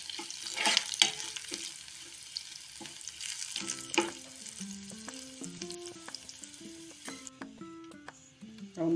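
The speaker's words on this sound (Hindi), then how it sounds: "ये सांभर के लिए तड़का बनकर तैयार है।" A tadka of spices and Kashmiri red chilli powder for sambar sizzles quietly in a pan with faint stirring, while soft music plays over the top.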